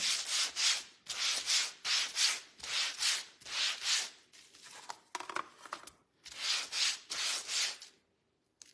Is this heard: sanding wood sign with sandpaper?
yes